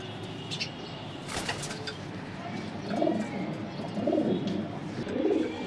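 Racing pigeons coo softly in low, rolling bursts, three or four calls near the end, with a brief flutter of wings earlier over a quiet background.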